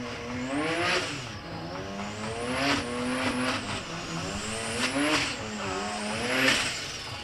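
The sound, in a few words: Toyota Hilux drag racing at SA Drag Nationals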